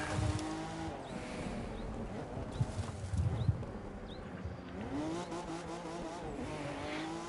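Car in The Crew 2 racing game drifting on the handbrake around tight corners of a narrow road, engine droning steadily with rising revs and brief tire skids and squeals, loud and close, no talk.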